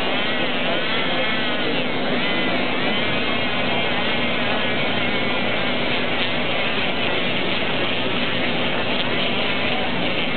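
An Endo Pulse endodontic handpiece drives a file with vertical reciprocation at roughly 8,000 to 10,000 RPM, giving a close, continuous buzzing whine with a steady pitch throughout.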